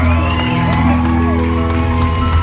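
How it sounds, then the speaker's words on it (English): A concert crowd cheering, whooping and shouting over sustained, loud music from the stage at a show, with dense applause blending into the steady wash of noise throughout. "An extra huge round of applause."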